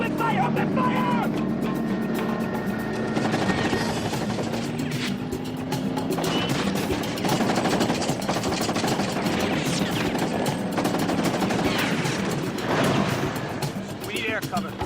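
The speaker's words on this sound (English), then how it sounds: "We're taking machine gun fire from a small freighter about 100 yards south of the bridge." Machine gun fire from a small freighter near a bridge, dense and continuous, mixed with engine and vehicle rumble and shouted voices throughout.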